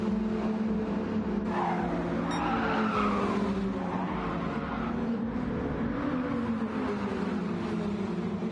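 Race cars lapping a track in a Gran Turismo style racing game, engines droning steadily with tire squeal and skidding throughout, no voices over the continuous sound.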